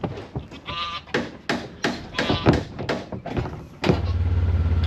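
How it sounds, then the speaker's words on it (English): A goat bleating in a barn, several loud, wavering calls close by, mixed with knocks and rustling, then a steady low engine-like hum sets in near the end. "We sold our other goat. I don't know, you might be able to hear him in the back."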